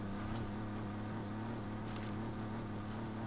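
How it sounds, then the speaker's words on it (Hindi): A Jeep Gladiator's engine in Forza Horizon 5 drones steadily during off-road driving, a continuous low hum with a strong rumble and little change in pitch across the span. "चलो इंजन का पावर देखते हैं भाई कितनी पावर है, ऑफ रोडिंग की पावर तो होगी ना भाई"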